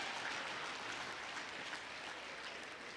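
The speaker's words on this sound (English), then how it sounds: "don't deny me that applause." Applause from a conference audience at a skills summit, a steady, dense wash of many hands clapping at moderate distance, with no voices over it.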